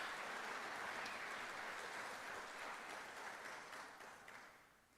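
A crowd applauding Hall of Fame honorees at a University of Dubuque athletic ceremony, steady dense clapping that holds, then fades toward the end.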